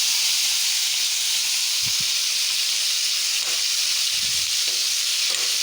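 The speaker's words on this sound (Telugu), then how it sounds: "కాస్త వేయించుకోవాలి టమాటా నుంచి తోలు ఊడేంత వరకు ఇంకా వేయించుకుంటే సరిపోతుంది" Tomatoes frying in hot oil with garlic, cumin and fenugreek, a loud, steady hiss of sizzling close up, broken by a few soft low thumps from stirring.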